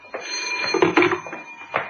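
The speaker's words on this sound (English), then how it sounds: "There goes the phone." A telephone bell rings in a radio drama scene, several short bursts of bright metallic ringing, close and clear with no talking over it.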